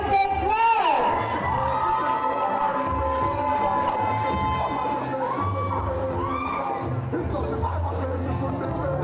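An audience at a high school valedictory service cheers and shouts, loudest in an opening burst, then carries on as sustained crowd noise with whoops.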